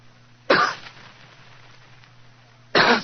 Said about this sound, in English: After a moment, he gave what he thought was a discreet cough.